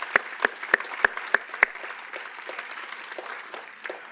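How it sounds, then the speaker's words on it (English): Scattered audience clapping at a community college commencement ceremony, with a few sharp, distinct claps standing out early and then a softer, thinner patter of applause continuing in a large space. "Let's give him another round of applause."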